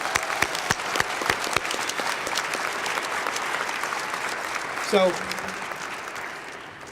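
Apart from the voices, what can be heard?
audience round of applause at ceremony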